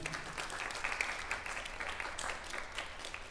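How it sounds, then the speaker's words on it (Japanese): A concert audience applauds the four-horn section after a wind band performance of a horn waltz, a dense, steady wash of many hands clapping at moderate distance throughout. "今一度ホルンセクションの皆さんに大きな拍手をお送りください。"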